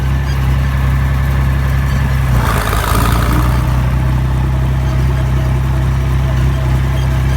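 An IH Farmall 560 tractor engine pulls in direct gear with a steady, loud, low drone, nearby and unbroken, and a brief surge in load partway through.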